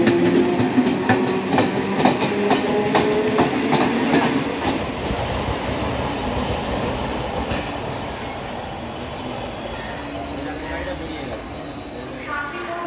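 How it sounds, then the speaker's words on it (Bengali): A train rolls through Bidhannagar station in Kolkata, wheels clattering loudly at first and then fading into a softer rumble with a faint squeal, while a voice talks over it. "এই যে ট্রেন যাচ্ছে এটাও কিন্তু ফাঁকা"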